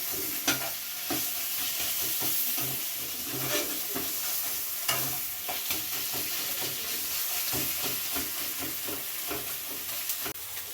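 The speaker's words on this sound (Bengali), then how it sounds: "গ্যাসটা সিম করে দিয়ে ভাজা ভাজা করে নেব" Shapla (water lily) stems and prawns fry in a pan with sugar over low heat, giving a steady close sizzle broken by repeated scraping and stirring strokes throughout.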